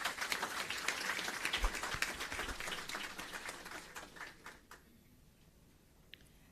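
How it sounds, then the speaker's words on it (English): A round of applause from graduates and guests at a nurses' symposium for International Nurses Day, fairly faint and distant, dense clapping that thins out and fades to near silence, with one last stray clap. "A round of applause once more,"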